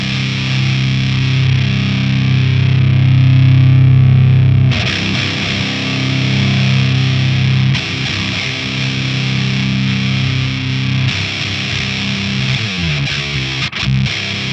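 A heavily distorted electric guitar plays through a Diezel VHX high-gain amp with mid-cut, thick and saturated with a scooped, edgy tone, sustained chords ringing loud and alone.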